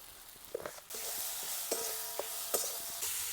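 Chopped tomato and salt go into a hot, spiced masala in a pan: a steady, loud sizzle with scraping stir strokes and small clinks of the utensil, alone without talk.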